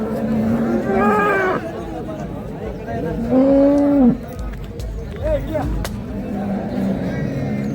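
Cattle low and moo at a cow, bull and buffalo market in Karad, Satara: a few loud, drawn-out calls close by, with faint crowd chatter underneath.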